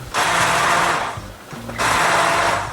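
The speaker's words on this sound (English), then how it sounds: "Okay, I'm going to blend this now." Immersion blender whirring through a pot of chili in two loud bursts, a high buzzing motor roar that pauses briefly before starting again, close up.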